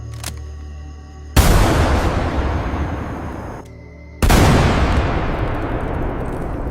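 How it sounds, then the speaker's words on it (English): WW1-era mortar shells in a battlefield dramatization: two loud, sudden blasts a few seconds apart, each one trailing off into a long, rumbling roar that fills the space. "The first shell lands 40 yards short."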